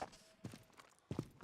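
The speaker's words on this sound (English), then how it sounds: "Now, I did hear footsteps" Footsteps in the survival shooter Deadside: a few soft, fairly faint steps in uneven groups, with no voices over them.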